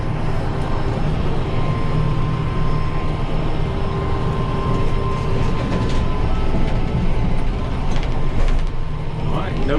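A riding mower shifted into a higher gear cuts short grass, giving a loud, steady engine drone with a constant mechanical hum and rattle throughout, close and continuous.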